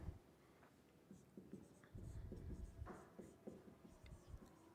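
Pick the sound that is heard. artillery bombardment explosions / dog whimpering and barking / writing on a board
writing on a board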